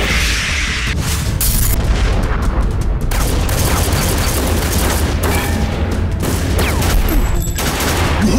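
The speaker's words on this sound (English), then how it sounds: "there's a shootout going on inside his home" Dense gunfire from a shootout in a movie trailer, rapid overlapping shots and booms crackling loudly and continuously with no pauses, layered over a dramatic soundtrack.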